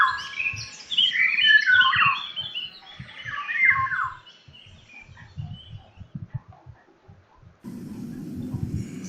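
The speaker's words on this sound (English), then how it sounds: "See this golden oriole, Indian oriole bird." A golden oriole (Indian oriole) gives a run of bright, fluting whistled calls near a mango tree, loud at first and then fading, over low rustling and handling noise that grows louder toward the end.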